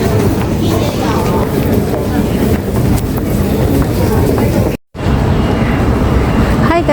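A train runs at Taipei Main Station, a continuous rumbling roar with faint rail noise in a large enclosed space, briefly cut off near the end.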